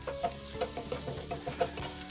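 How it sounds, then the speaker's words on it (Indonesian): Garlic sautéing in a pan, a soft steady sizzle with light stirring clicks and scrapes, close and fairly quiet, with no talking. "Masukkan bawang putih. Ini akan saya tumis sampai agak layu."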